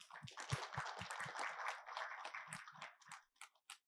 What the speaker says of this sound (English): Can we have a huge round of applause for Rahul?